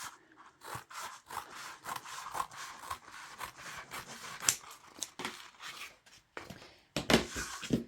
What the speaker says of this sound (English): with your scissors, just cut that area there all the way across